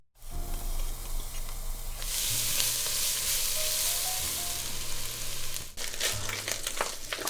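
Ginger, garlic and scallion whites stir-frying with bok choy in a hot wok, a loud steady sizzle with scraping stirs throughout, no talking.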